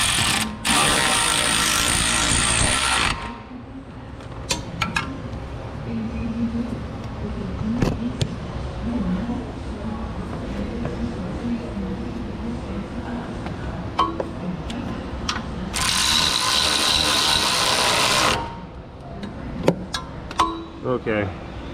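Ratchet snugging up suspension bolts on a Jeep Wrangler 4.0 4x4 in a workshop, with quick clicking bursts and metallic clinks over steady background noise, close by, with louder hissing passages at the start and near the end.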